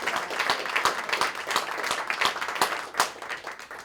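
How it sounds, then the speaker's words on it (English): A cabaret show audience claps steadily for a few seconds, individual hand claps standing out in an even, lively rhythm without any speech. "I am going to give a big round of applause to my boyfriend, John Williams."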